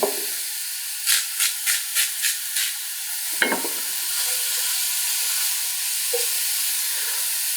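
Chopped mushrooms hit hot oil in a pan with a steady hiss, followed by a quick run of rhythmic stirring or shaking scrapes, then a sharp clatter and a continuous sizzle at close range.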